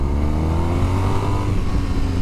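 A 2023 BMW R 1250 RS boxer engine runs loud and close, a steady low throbbing hum with slight rises in revs throughout and no voices over it.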